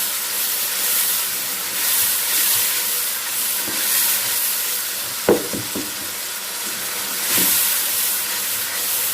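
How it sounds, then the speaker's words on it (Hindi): Crushed ginger and garlic frying in a karahi for Lahori-style chicken karahi, a loud hissing sizzle with steam and a burst of spatula scrapes and knocks midway, close up, with no voices. "इसके साथ ही मैं इसमें शामिल करूँगी कुटा हुआ अदरक और लहसुन। अच्छी तरह भून लेंगे।"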